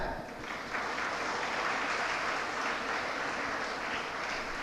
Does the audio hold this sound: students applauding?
yes